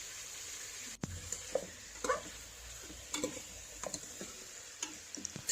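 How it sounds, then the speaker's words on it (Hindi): A spoon stirs chicken stew in a pot, giving soft scraping knocks and clinks at an irregular pace over a faint steady sizzle, close and fairly quiet, with no talk. "चम्मच चलाते रहें साथ साथ।"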